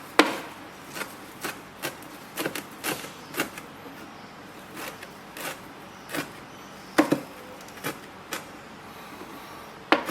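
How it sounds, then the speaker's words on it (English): A knife chops fresh parsley finely on a board for a Belgian beef tartare, giving irregular sharp knocks that come in loose bursts with short pauses between them, close and fairly quiet. "I'm going to add to this a bit of parsley, which I'll also finely chop"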